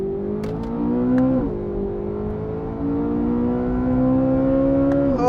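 A Chevrolet Corvette Z06 engine revs high on a race track, a loud, steady screaming drone that climbs in pitch, drops briefly at a shift, then builds again.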